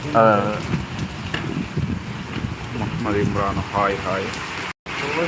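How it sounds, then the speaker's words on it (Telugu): Heavy rain pours in Mulkanoor as a dense, constant hiss with gusty wind buffeting the microphone, while someone talks and greets someone over the downpour. "భారీ వర్షం పడుతుంది"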